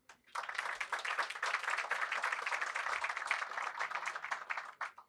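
Applause from a business-forum audience, a dense, steady patter of many hands clapping that swells quickly, holds for several seconds and tapers off at the end.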